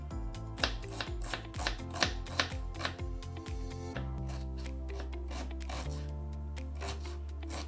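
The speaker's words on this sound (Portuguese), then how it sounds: "Vamos picar a cebola." A knife chops an onion on a board in quick rhythmic strokes, about a dozen crisp taps in the first half before slowing to a few sparse cuts, all over a steady low background hum.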